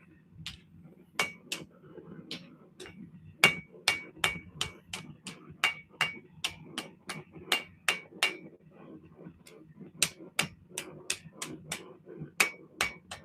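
Rounding hammer strikes on metal to texture a drop-point blade, a long run of sharp ringing blows in uneven bursts, some quick and clustered, others spaced with short pauses, close and clear.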